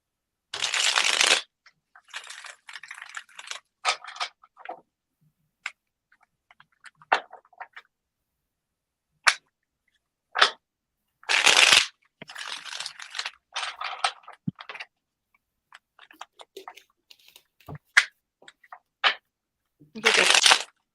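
Repeated bursts of playing cards being shuffled, crisp riffling rustles in several short runs with quiet pauses and small taps between them, during a psychic card reading.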